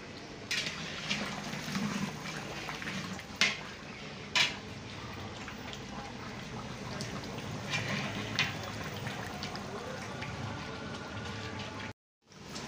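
Mutton and potatoes sizzle and bubble in ghee inside a large wedding-hall korma pot, a steady close frying hiss with a few sharper pops and splashes, no talk.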